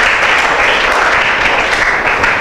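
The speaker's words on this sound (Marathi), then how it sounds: "एकदा टाळ्या होऊन जाऊ द्या याच्यासाठी" Steady, dense applause from a classroom of school students during a history lesson, loud and close, holding evenly for a couple of seconds with no talking over it.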